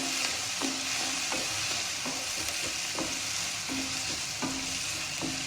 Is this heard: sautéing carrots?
yes